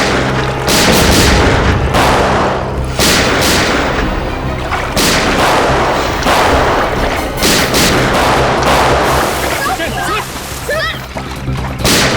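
Gunfire aimed at CID officers in a TV crime series: dense bursts of loud shots and booms run throughout, mixed with a dramatic soundtrack and talk.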